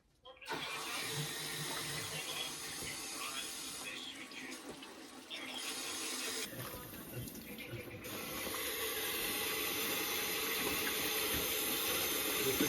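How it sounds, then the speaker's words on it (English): Freshly picked chicory leaves from a garden are washed outdoors under running water, a steady splashing and gushing from a tap or hose that continues throughout with shifts in flow and no talking. "I've picked some chicoria from our garden, and I'm going to wash it outside"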